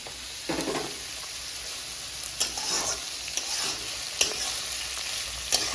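Chopped vegetables for chili chicken chowmein stir-frying in a pan, a steady moderate sizzle broken by several sharp spatula scrapes and taps, no voices.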